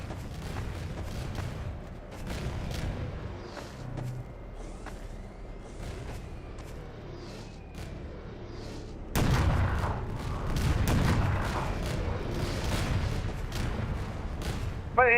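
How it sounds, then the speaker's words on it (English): Homing missiles fired by an enemy in the cyberpunk shooter E.Y.E. Divine Cybermancy, a barrage of sharp booming blasts and explosions, loud and close, with talk in the background. "But it has homing missiles."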